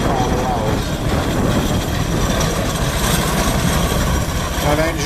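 Vintage steam road roller, formerly of Skipton Council in Yorkshire, running at a Gloucestershire vintage rally: a loud, steady mechanical rumble and hiss with continuous low churning and no breaks.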